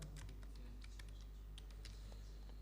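Soft, fast computer keyboard typing taps out a short command over a constant low electrical hum, faint and close.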